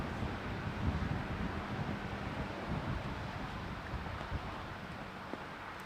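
Steady headwind gusting across an outdoor disc golf course during a junior world championship final, a broad continuous roar on the microphone with slight swells and no talk, loud and close throughout.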